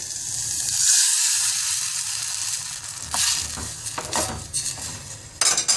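Tamarind water poured into a hot pan, bursting into a loud close sizzle that settles into steady frying crackle, with a few metallic pan and utensil clinks near the end.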